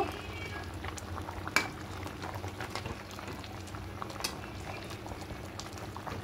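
Potatoes simmer in milk for dudh shukto, with a steady low bubbling and scattered small pops, one sharper pop near the start.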